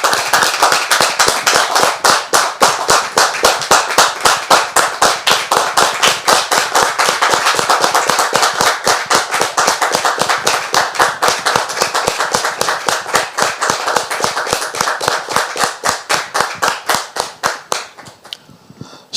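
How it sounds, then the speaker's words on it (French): A crowd claps to welcome a guest onto a stage, sharp hand claps that fall into a fast, steady rhythm, loud and close, holding for nearly twenty seconds before tapering at the end. "on la reçoit très cher public avec des applaudissements"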